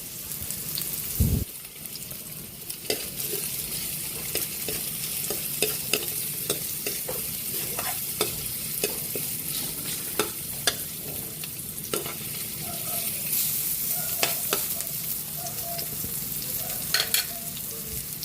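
Onion sautéing in a pan for ginisang upo, a Filipino bottle gourd dish, makes a soft, continuous sizzle with frequent clicks and scrapes from stirring.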